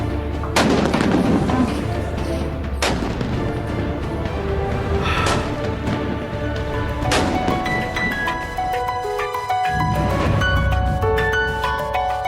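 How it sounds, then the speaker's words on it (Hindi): Gunfire inside a house: several loud, sharp shots crack out at irregular intervals, each ringing with a booming echo. "वो घर में फायरिंग की आवाजें आ रही हैं।"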